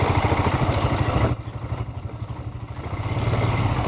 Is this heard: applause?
no